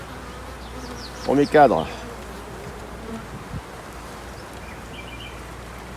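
Honeybees drone steadily around an opened hive, a thin continuous buzz beneath a brief burst of nearby speech, with occasional soft knocks from handling the frames.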